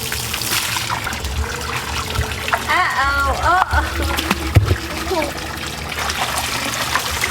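Water splashes and trickles over a baby playing in a small backyard pool, with soft sloshes and a few sharper splatters under voices talking.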